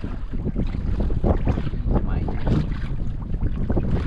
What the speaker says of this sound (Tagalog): malakas na naman ulit ang hangin